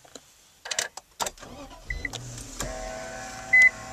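An Infiniti M45 S engine, about 325 horsepower, cranks via push button and catches, settling into a steady idle hum, with a few short electronic beeps and soft clicks before it.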